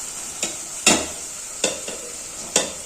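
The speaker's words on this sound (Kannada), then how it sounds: "ರೈಸನ್ನ ಸ್ವಲ್ಪ ಹಾಕೊಂಡು ಮಿಕ್ಸ್ ಮಾಡಿದ್ರೆ ನಿಮಗೆ ತುಂಬಾ ಚೆನ್ನಾಗಿ ಮಿಕ್ಸ್ ಆಗುತ್ತೆ" Rice for village-style lemon rice is stirred in a pot over a steady sizzling hiss, with four or five distinct scraping strokes of a spoon against the pot; no talking.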